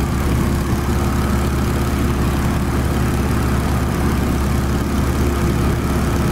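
A PT17 Stearman biplane's radial engine at full power in Microsoft Flight Simulator, a loud, steady propeller drone that holds evenly throughout with no speech.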